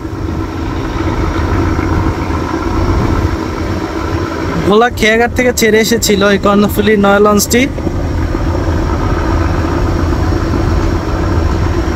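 The Karnaphuli 9 river passenger launch drones with a loud, steady low engine rumble throughout, and someone speaks over it for a few seconds midway.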